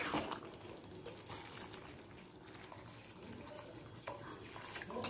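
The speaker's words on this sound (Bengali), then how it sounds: "এই সময় দিয়ে দেব পরিমাণ মতো জল। তবে অবশ্যই গরম জল দেবেন।" Hot water being poured into a pan of cooking dalia khichdi: a continuous, fairly loud rushing splash of liquid that runs steadily throughout.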